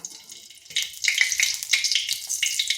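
A bay leaf and a dried red chili dropped into hot mustard oil in a kadai: a brief quiet start, then a bright, crackling sizzle that swells and keeps spitting up close.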